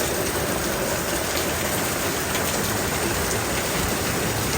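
Heavy typhoon rain pours down steadily in a dense, continuous roar with no pauses, close and loud throughout.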